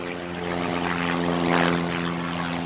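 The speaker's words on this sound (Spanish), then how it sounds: "Desde aquí se puede ver despegar a los aviones rumbo a Alemania." Airplanes taking off from San Francisco airport, a steady, loud engine drone with a humming propeller-like tone that swells slightly midway and continues throughout, with no voices.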